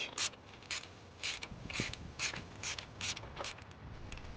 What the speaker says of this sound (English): I'm switching to ratchet to make my life a lot easier